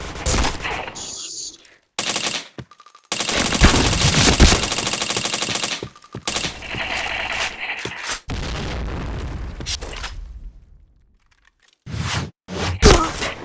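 Rapid automatic gunfire and explosive booms in a shooter video game, arriving in loud dense bursts separated by short quiet gaps, with crunchy impacts in between.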